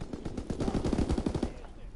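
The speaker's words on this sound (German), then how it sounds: "Und da höre ich Schüsse." Rapid bursts of gunfire from Call of Duty WWII crackle in quick succession, a short volley at moderate loudness that fades out after about a second and a half.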